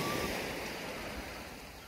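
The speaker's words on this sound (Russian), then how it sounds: "Море спокойное." Calm Black Sea waves wash softly at Sochi on a cloudy April day, a low, even hiss of gentle surf with some wind rumbling across the microphone.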